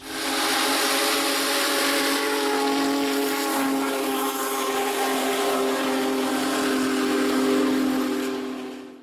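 The whistle of Union Pacific Big Boy steam locomotive 4014, burning used motor oil, blows long and loud, its layered tones sustained for several seconds over a hissing, rumbling train passing close by.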